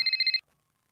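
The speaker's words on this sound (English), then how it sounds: "we got a phone call." A telephone rings for an incoming call on a podcast, a short, bright electronic trill of five quick pulses that cuts off abruptly, then silence.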